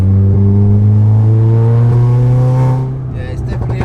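A 700hp VW Golf R that has lost power and runs with a slight misfire, held hard on the throttle in third gear. Its steady, loud engine drone fills the first few seconds close up, then falls away into rustling noise.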